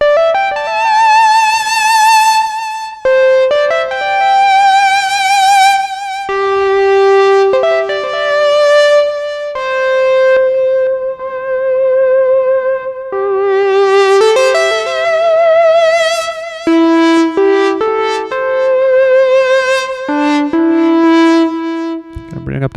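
DSI Pro 2 synthesizer playing a bright lead melody of sustained, stepping notes with subtle delay and reverb tails, loud and continuous with short gaps between phrases.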